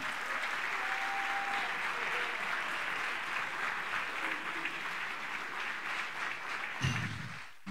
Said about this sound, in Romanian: Vă rog să-l primiți cu aplauze pe antrenorul echipei CSM Oradea, Cristian Achim.